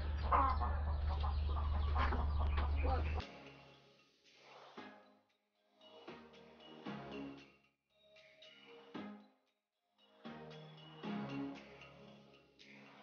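A hen clucks noisily after laying an egg, first in a loud sustained burst, then in quieter, broken rounds of clucking close by.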